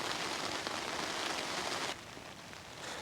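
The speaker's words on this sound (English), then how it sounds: "Just had to run for cover, it's raining again." Steady rain shower falling on open moorland on Dartmoor, a dense even hiss of drops close by that softens slightly partway through, with no voices.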